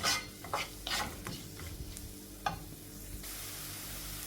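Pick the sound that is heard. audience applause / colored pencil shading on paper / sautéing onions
sautéing onions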